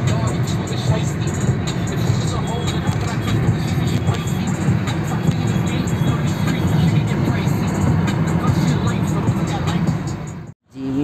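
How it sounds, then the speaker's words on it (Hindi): Dense road traffic in Delhi near Akshardham temple rumbles steadily for several seconds, a continuous wash of engines and vehicles with voices talking over it. "काफी ट्रैफिक है।"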